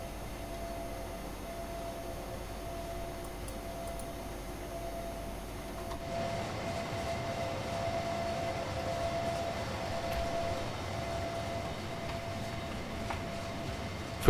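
Electric locomotive DB BR 185.2 in Train Sim World 4 running steadily, with a constant low rumble and a faint electrical hum. The sound grows fuller and louder partway through as the train picks up, with no talk over it.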